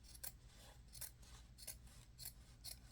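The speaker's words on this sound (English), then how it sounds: "these are not the best scissors" Scissors snip through a tin can for a craft project, giving six crisp metallic cuts spaced evenly about half a second apart, close but quiet.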